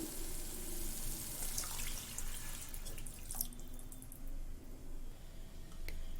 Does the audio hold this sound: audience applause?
no